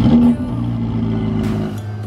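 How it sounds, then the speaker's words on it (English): A Ferrari 488 Pista sports car cruising on an English road, a steady loud engine drone with tyre and wind roar heard from inside the cabin, no clear revving. "We're cruising along nicely in the Pista"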